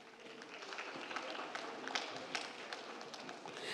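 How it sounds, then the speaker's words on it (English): An audience applauds at a school board meeting, a faint, sustained patter of clapping with scattered taps and a soft murmur of speech beneath. "a huge round of applause for these National Merit Schools of"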